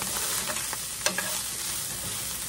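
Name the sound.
hamburger meat with taco seasoning browning in a pan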